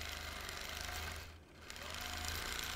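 A sewing machine stitching free-motion orange peel quilting runs in a steady rapid chatter, pausing briefly midway before picking up again, fairly quiet and unaccompanied by talk.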